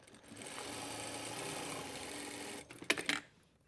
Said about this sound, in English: Sometimes we don't need to overlock the edge, so we would just sew the edges together